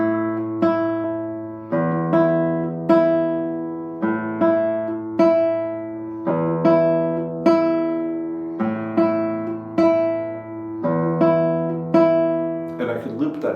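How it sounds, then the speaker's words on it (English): Classical guitar right-hand pattern from a Julio S. Sagreras study, open strings plucked in repeating triplet groups with a low bass note each beat, clear and close with no talking. "maybe the first 4 measures would sound like this if I played just the right hand"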